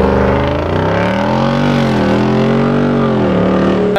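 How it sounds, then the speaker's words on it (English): A 2023 Jeep Wrangler Rubicon 392 V8 idles and revs through its factory exhaust, a loud, close, steady deep burble with rising and falling engine pitch, heard alone without talk. "the factory exhaust on the 392 does sound very good"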